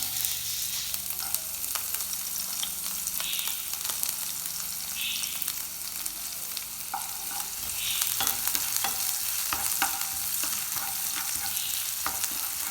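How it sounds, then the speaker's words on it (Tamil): Onions sauté in a pan for a Tamil beans poriyal, a continuous close sizzle broken by repeated scraping stirs and light utensil taps, with no voices. "வெங்காயம் நல்லா வதங்கணும்."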